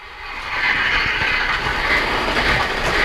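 A Polar Express model railroad train runs on its track, a steady close rumble with faint rhythmic clicking of wheels and no talking.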